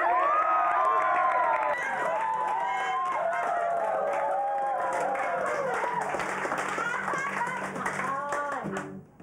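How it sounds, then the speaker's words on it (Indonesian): A studio audience at an Indonesian TV show bursts into sustained applause and cheering, dense clapping that holds steady for several seconds before fading out at the end. "Tepuk tangan sekali lagi."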